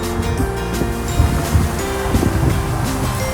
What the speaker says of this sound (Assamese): একদম হুৱাই বতাহ মাৰি আছে